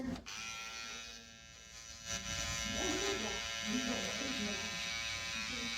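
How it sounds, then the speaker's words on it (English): Close hair trimmer buzzing steadily through a buzz fade haircut, with a person talking over the hum partway through. "I'm gonna take my trimmer."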